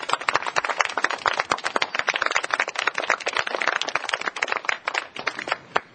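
A classroom of students claps for a classmate who has won the top award, a dense, steady patter of many hands lasting several seconds at a moderate, even level.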